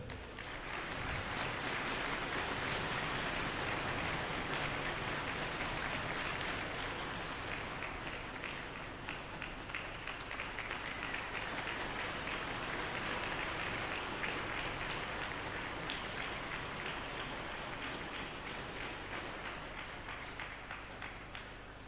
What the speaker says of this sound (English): I request all the delegates to give a round of applause.